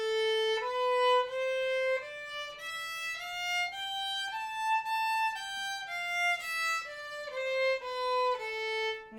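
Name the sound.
violin playing A natural minor scale, one octave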